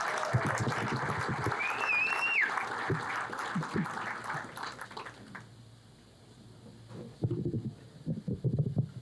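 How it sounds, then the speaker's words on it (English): Meeting audience clapping for the hosting staff at a lake association gathering, a moderate burst of applause that fades out midway, followed by brief scattered noises near the end. "please give them a hearty round of applause"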